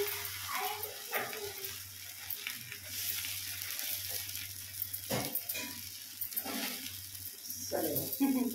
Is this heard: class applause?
no